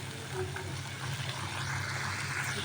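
Tomato paste sizzling and frying in plenty of oil for a potato, pointed gourd and prawn curry, a steady close hiss with faint stirring throughout.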